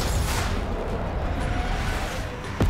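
Stealth bomber airstrike in Black Ops 6, a dense rolling barrage of loud booming explosions rumbling continuously with whooshing debris, a sharp whistle near the end.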